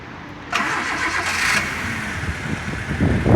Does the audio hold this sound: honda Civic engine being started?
yes